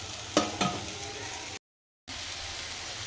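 Spice paste sautéing in a pan, a steady close sizzle with two sharp stirring scrapes near the start and a brief silent gap midway; no talking.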